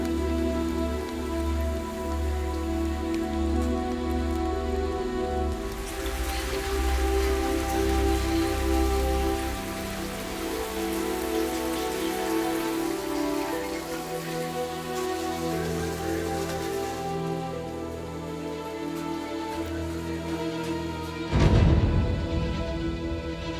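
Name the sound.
rain falling at dusk in a village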